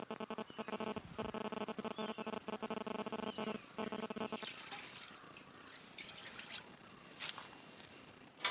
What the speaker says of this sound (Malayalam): ഇത്രയും വെള്ളം കൂടി ഞാൻ ഇതിൻ്റെ അവിടെ അങ്ങ് ചേർക്കുകയാണ്